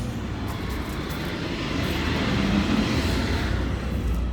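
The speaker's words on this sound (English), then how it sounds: "we've got a convoy of tractors coming down the road now." Steady loud low rumble of a convoy of tractors rolling past on a road, droning continuously and swelling slightly toward the end.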